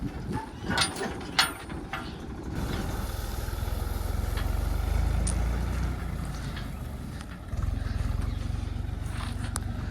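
A loaded tractor's engine rumbles low and steady as it pulls away. A few clanks and knocks come first, then the drone swells and holds.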